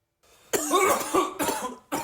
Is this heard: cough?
yes